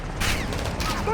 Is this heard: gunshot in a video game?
yes